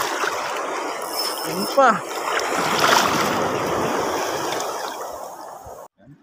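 Large waves wash and slap against a small fishing boat on open water in the late afternoon, a steady rushing surge with a brief splash. Someone speaks over it.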